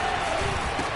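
Roaring football stadium crowd during overtime, a steady dense wall of loud noise filling the whole moment with no breaks, a commentator's voice partly blended underneath.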